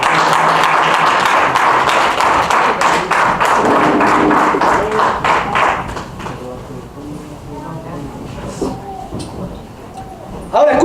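A church congregation applauds loudly for several seconds with a dense patter of clapping, which then fades to scattered taps and thumps in a quieter room.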